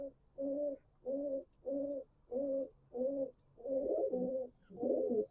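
Domestic pigeons coo in a run of repeated low, rounded calls, about seven evenly spaced hoots that grow rougher and fuller toward the end, close and clear with no talking.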